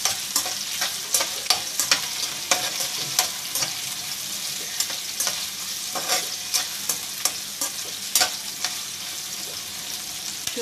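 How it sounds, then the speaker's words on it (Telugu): Onions and green chillies frying in hot oil for a prawn biryani, with a steady broadband sizzle and frequent sharp scraping clicks of a spatula stirring through the pan, close and continuous with no talk. "ఆనియన్స్ నూనెలో మగ్గిపోవాలి బాగా"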